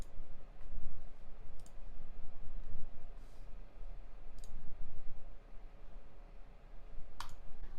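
A computer mouse clicks several times, short, faint, isolated ticks spaced irregularly over a low steady room hum.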